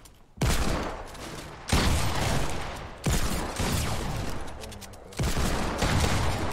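Gunfire in the Fortnite video game: four dense, sustained bursts of rapid shots, each beginning with a sharp onset, loud and continuous, with brief gaps between the volleys.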